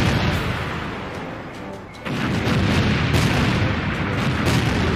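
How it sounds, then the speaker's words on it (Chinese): A long-range artillery strike lands during a military exercise. A heavy boom hits partway through and then becomes a loud, sustained rumbling roar that keeps going to the end. "我们现在看到的烟火和炸点显示，是由空军山鹰旅扮演的蓝军正在对红军实施远程火力打击"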